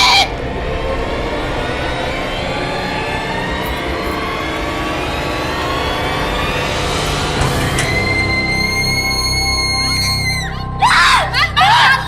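A woman screams amid a noisy, crowded scene with a roaring engine-like rumble, the sound sustained and loud over several seconds before sharp bursts near the end.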